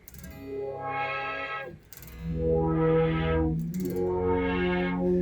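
A guitar run through a BOSS SY-1 synthesizer pedal set fully wet produces three sustained, buzzy synthesized tones with rich harmonics, each swelling and holding, no dry guitar audible.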